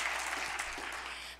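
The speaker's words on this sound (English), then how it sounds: "I think she gets another round of applause." An audience at a Jewish parents' forum breaks into a brief burst of applause, dense and even, fading slightly at the end.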